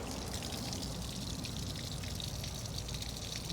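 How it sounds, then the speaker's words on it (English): Water runs steadily from a garden hose into a 50 hp Evinrude outboard motor that sat unused for 20 years, a constant rushing, splashing flow at even loudness, with no other sounds over it. "Okay, the water is back on."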